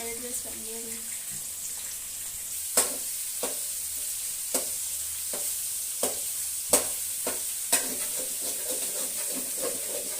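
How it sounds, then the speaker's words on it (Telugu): Biryani masala fries in a pan, a steady sizzle broken by several sharp scrapes and knocks from a stirring spoon, close and alone. "అలా కలుపుకుంటూ వేయించుకోండి"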